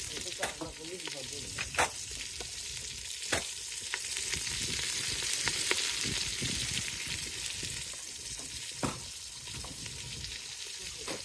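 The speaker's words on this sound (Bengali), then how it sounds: "গরম তেলে আলু কাঁচা জাল দিয়েই একটু কষিয়ে নিচ্ছি" Raw potatoes frying in hot oil aboard a fishing boat on the Bay of Bengal, a steady dense sizzle broken by sharp scraping stirs and clinks of a spatula, close and continuous with no talk.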